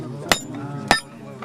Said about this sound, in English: pounding flares one end to form the socket.